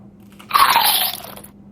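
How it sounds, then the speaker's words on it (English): A single close, loud crunchy bite into a sweet, juicy Asian pear, a brief wet crunch lasting about half a second in an otherwise quiet setting. "It's really sweet, very crunchy. It's got really a lot of juice in there too."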